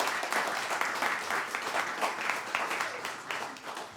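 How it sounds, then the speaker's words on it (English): Concert audience applauding steadily for several seconds, a dense wash of many hands clapping at moderate volume with no voices on top. "Give Dave a round of applause."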